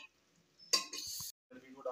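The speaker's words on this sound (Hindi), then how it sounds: "अब इसमें हम मटन मिक्स कर देते हैं।" Mutton goes into a pot of prepared masala for a pahadi-style curry, producing a short, close clatter and scrape of stirring against the pot, with voices faintly around it.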